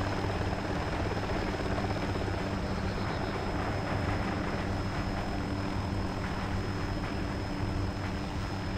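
Helicopter in the Arma 2 video game, a loud continuous rotor and engine roar that stays steady and close throughout as it comes down to land in a compound, with no talking.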